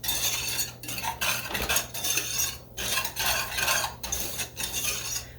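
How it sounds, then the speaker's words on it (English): A utensil stirs a lemon crackle mixture in a bowl, making steady rhythmic scraping and clinking strokes in close, repeated bursts with no talking. "I'm just going to stir that up like that"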